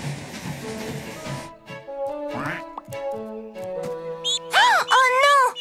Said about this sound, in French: Le bébé canard a la patte coincée dans les rails.